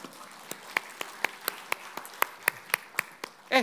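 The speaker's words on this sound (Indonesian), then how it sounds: "Berikan tepuk tangan saudara" Members of a church congregation at a Sunday service clap in a slow, evenly spaced rhythm, a dozen or so sharp claps sounding soft and distant.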